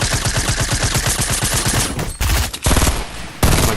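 Rapid automatic gunfire in the Fortnite video game, loud and close, firing in a steady fast burst before breaking into a few separate heavier shots.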